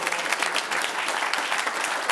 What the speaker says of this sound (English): Can we give them a big round of applause for helping us out here this evening?